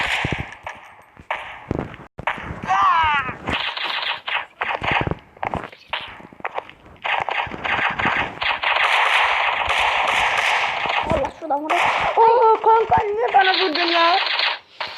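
Rapid bursts of video game gunfire crackle through a co-op fight against warriors, shots rattling in quick clusters between brief pauses while players talk excitedly over the action.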